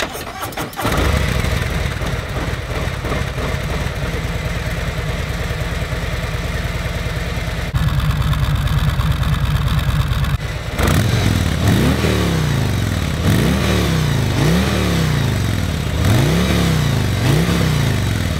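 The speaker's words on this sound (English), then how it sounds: "the next thing that we need to listen to is this stock exhaust system." A Harley-Davidson 2019 Street Glide Special 114 with stock exhaust starts and settles into a loud, lumpy idle, then is revved repeatedly in rising and falling bursts, close by.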